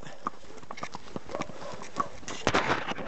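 Horses walking on a February morning in the Ariège countryside, hooves clip-clopping in a loose, uneven rhythm, with a few louder knocks near the end and a voice urging them on.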